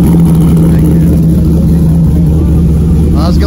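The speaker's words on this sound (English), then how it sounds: "This car sounds good." A Mercedes CLK500 engine runs loud and close with a steady low hum throughout, while someone talks over it near the end.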